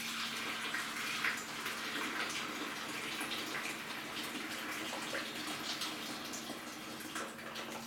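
Water drains steadily in a kitchen sink, an even gurgling wash with faint trickles that runs unbroken and fairly quiet for the whole span.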